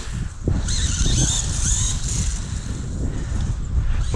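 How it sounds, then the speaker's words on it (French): Motor of a Funtek Furio remote-control machine running steadily, a close whirring drone with wind buffeting the microphone, continuous throughout with no voices. "Le moteur est beaucoup moins puissant,"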